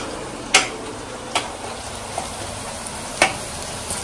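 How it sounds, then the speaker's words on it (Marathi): Onion frying in a pan for Malvani prawn rice, a steady low sizzle with a few sharp scraping taps of a spatula stirring at irregular intervals. "कांदा भाजला थोडासा खरपूस असा होऊन दे."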